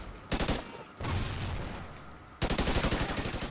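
Rapid automatic bursts of SA-805 rifle fire in the video game Call of Duty Ghosts, three loud sustained volleys with brief gaps between them, close and dominant.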